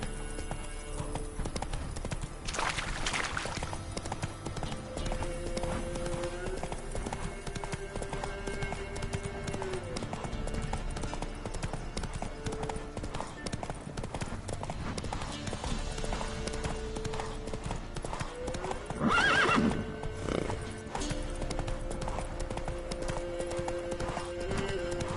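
Hooves of Roach, a horse in a video game, drum in a fast galloping clip-clop that runs steadily throughout, with a short whinny-like burst near the end and a voice speaking over it.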